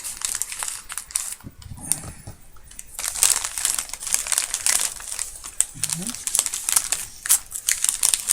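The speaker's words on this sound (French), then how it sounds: "j'essaie d'ouvrir sans que tout déchire" A taped package is opened at a mailbox, with close, loud crinkling and paper tearing in bursts under intermittent talk, plus brief ripping of tape.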